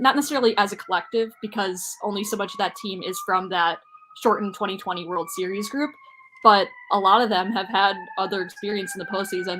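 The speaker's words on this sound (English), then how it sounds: "Sorry for the sirens in Chicago." Emergency vehicle sirens wail in Chicago, a faint rising and falling tone in the background beneath steady close-up conversation.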